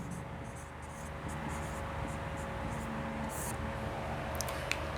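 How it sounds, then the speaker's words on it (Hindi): Chalk or marker strokes run across a classroom board as a note is written, with faint repeated scratchy scrapes over a steady room hiss and no voices. "एक लाइन में यहाँ पर नोट करके लिखूँगा"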